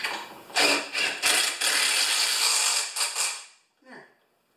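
A ratchet wrench tightening a bolt on a Craftsman mower, several loud close bursts of rapid clicking separated by brief pauses, ending with a short fainter creak.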